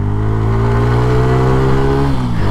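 A 2022 TVS Radeon 110cc motorcycle engine, loud and close, holding a steady high rev before dropping quickly toward idle at the end.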